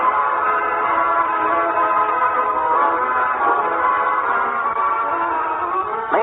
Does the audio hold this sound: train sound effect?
yes